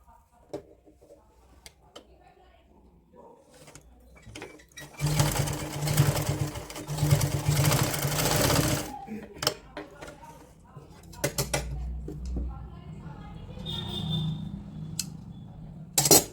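Sewing machine stitching woolen nightwear for a 3–4-year-old, running in a loud sustained burst of several seconds, then shorter intermittent runs with handling clicks around it.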